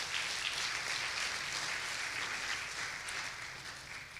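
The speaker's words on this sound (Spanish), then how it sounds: "Denle ese aplauso fuerte a Dios" A church congregation gives loud applause in praise of God during a worship service. Dense, steady clapping rolls on without a break and fades slightly toward the end, faint and distant overall.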